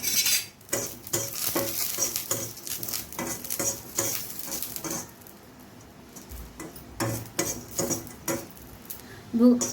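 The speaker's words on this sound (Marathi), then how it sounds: "आधी आपण खोबरं भाजून घेऊ" Dry coconut roasting in a pan while a spatula stirs it, repeated scraping and clattering strokes against the metal with faint crackle between them, close and steady, with a quieter pause midway.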